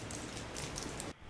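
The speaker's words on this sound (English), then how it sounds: "This is drips in underpass, so I guess this is like concrete and water." Water dripping in a concrete underpass, a recorded sample: a dense, steady crackle of drips and patter, close and fairly even, cutting off abruptly near the end.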